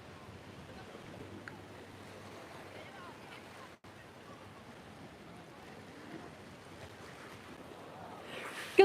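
A steady low roar of wind buffets the microphone at the end of a seaside jetty in Magaluf, Mallorca, with a faint wash of waves underneath and a sudden gust-like burst at the end.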